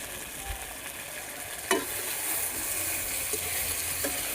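Food stirred in a little hot oil, with a steady broadband sizzle, a sharp scrape of the spoon against the pan partway through, and a few lighter knocks later.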